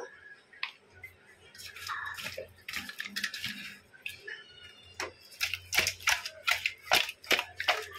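Katla fish pieces are mixed by hand with salt and turmeric, giving close, wet squelching and soft clicking in irregular bursts that grow busier toward the end.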